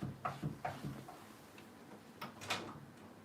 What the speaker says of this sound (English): Stop knocking on the door.